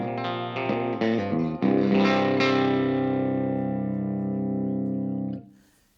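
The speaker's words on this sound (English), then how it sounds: "You can hear she's just breaking up just on the edges of, oh yeah. Using my Gretsch Electromatic, made in Korea." A Korean-made Gretsch Electromatic electric guitar played through a Selmer Treble and Bass valve amp, strummed chords just breaking up at the edges, loud and close, ringing out before a quick cutoff.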